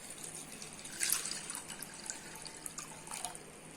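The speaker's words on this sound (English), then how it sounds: "And then we'll put 280 ml of water." About 280 ml of water running from a tap or being poured into a pan for cooking instant pasta, a faint steady trickle with a few small drips and splashes, with no talking.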